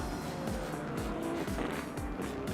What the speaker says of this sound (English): Cars venturing out on track.